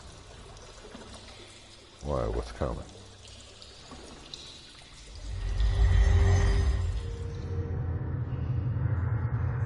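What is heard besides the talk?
sloshing through ankle-deep water, Shadowgate video game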